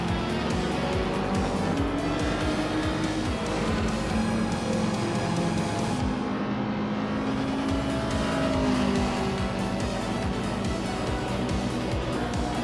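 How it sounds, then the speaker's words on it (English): Vintage street race cars, a Corvette and a Toyota 2000 GT, roar continuously with engines revving and shifting pitch as they race, loud and close with tire noise throughout. "The Corvette is leading, but the Toyota 2000 GT is right behind"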